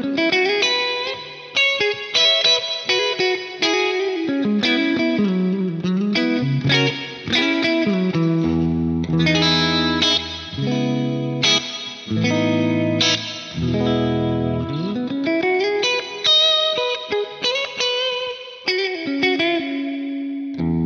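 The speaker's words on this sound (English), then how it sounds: "I'm going to crank up the modulation depth so those repeats just kind of start to sound like they've been run through a very subtle chorus" Guitar played through a big ambient reverb with modulated, subtly chorus-like repeats, shimmering chords and melodic runs sustaining loudly and continuously with washy tails and no talking.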